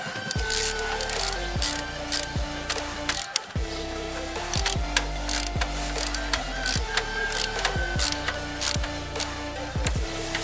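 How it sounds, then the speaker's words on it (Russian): A 10 mm socket ratchet tightens the rear sprocket nut on an Alfa moped held in first gear, giving steady repeated clicking pawl strokes and short mechanical rattles close by, with no talk. "фиксируем нашу звездочку и головкой на 10 начинаем закручивать"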